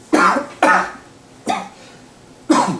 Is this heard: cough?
yes